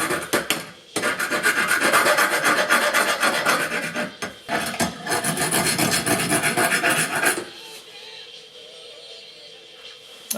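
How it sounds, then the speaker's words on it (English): A hand file rasps across the freshly cut end of a steel bolt to take off the sharp edges, giving close, loud, steady strokes for about seven seconds with a brief pause near the one-second and four-second marks, then fading to quiet. "So we'll take a file. File those sharp edges down."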